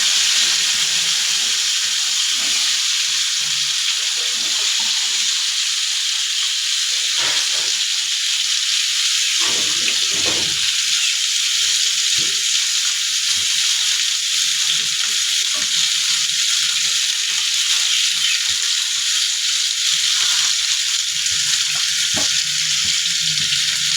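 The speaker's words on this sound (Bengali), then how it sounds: "আমি এই যে কচুর গাঁঠিটাও মাছের সাথে একটু ভেজে নিব" Taro corms fry together with fish in hot oil, a loud, dense, continuous sizzle and hiss that fills the scene, with occasional soft stirring knocks and no voices.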